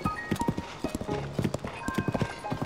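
Horse hooves in Zelda: Tears of the Kingdom clip-clop in a quick, steady trotting rhythm, close and distinct, along with soft rustling game ambience.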